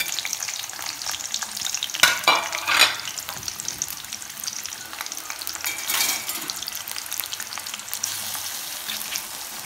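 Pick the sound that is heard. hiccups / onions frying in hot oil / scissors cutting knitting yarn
onions frying in hot oil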